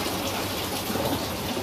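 Pumps feeding a laboratory hydraulic flume, an open-channel rectangular section with constant gradient, give a steady, moderately loud broadband rush of flowing water that holds even throughout without breaks.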